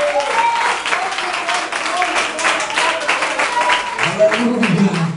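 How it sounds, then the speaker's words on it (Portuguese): Congregation clapping and applauding during a church service, with sustained dense hand claps throughout and a voice speaking over them toward the end. "Exalte o Senhor com as palmas."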